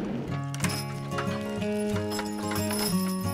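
Team of big draft horses pulling large logs, their hooves clip-clopping in a steady rhythm close by, alongside a brief neigh, with harness and woodland ambience in the background.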